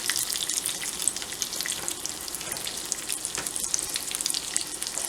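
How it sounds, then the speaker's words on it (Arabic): Chicken pieces fry in oil over medium heat with a constant, close crackling sizzle and spitting bursts throughout. "اخليه هنا بالزيت واخليه على نار ناصية على مود تكسب، مو عالية ما يحترق"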